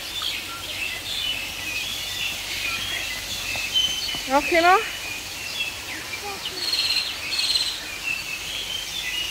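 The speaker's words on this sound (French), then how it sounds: "tu entends les oiseaux, ils sont tous dans les arbres" Birds in aviary trees at a Phú Quốc safari park chirp and twitter in short bursts amid insect buzz and outdoor ambience, while a person speaks briefly.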